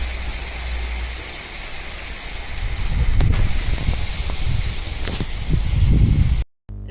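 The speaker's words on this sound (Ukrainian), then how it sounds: "А ще вітер ми можемо почути. Послухайте, як він розмовляє." Wind blows in gusts with a low rumble, stirring rustling leaves that grow louder toward the end before cutting off abruptly.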